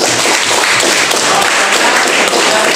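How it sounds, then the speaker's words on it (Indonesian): Classroom audience clapping together, a dense steady burst of applause lasting a few seconds with no speech over it. "Oke, kita berikan tepuk tangan."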